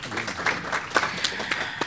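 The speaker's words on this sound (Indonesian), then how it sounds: "Jadi kita tepuk tangan dulu untuk kita semua." An indoor audience at a leadership and organizational ethics talk claps in a short, fairly sparse burst of applause, moderately loud and without talk.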